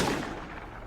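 A single gunshot from a gun in the video game Schedule 1 gives a loud close burst that fades over less than a second, with nothing else heard.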